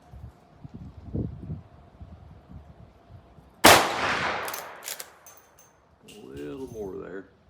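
A Rossi R92 lever-action rifle with a 20-inch barrel, chambered in .357 Magnum and firing 125-grain XTP loads, goes off once at an outdoor range. The loud sharp crack comes after quiet low rumbles, and a voice speaks after the shot.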